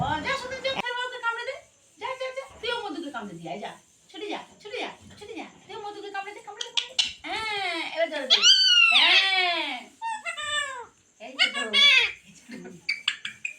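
Two pet parrots squabble, trading loud, harsh squawks and screeches with rising and falling calls, close up and nearly continuous, the calls growing more intense toward the middle.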